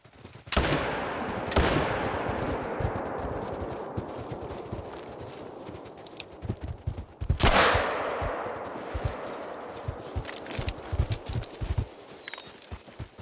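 Two loud hunting rifle shots in theHunter: Call of the Wild, each a sharp crack followed by a long rolling echo fading across open hills, with footstep-like rustling between them.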